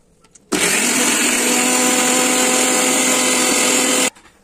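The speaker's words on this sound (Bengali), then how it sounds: "এগুলো ব্লেন্ডারে ব্লেন্ড করে নেব" Blender grinding peanuts, almonds, poppy seeds and raisins for a shahi beef masala, one loud continuous whirring run of about three and a half seconds that starts and stops abruptly.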